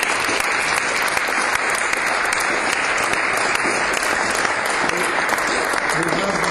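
Loud, dense applause from a sizable audience after speakers at a Schizophrenia Commission event, steady clapping filling the room without letup.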